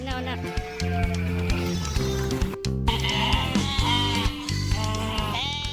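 Sheep bleating in pens, several overlapping, drawn-out bleats close by, with a voice talking over them throughout.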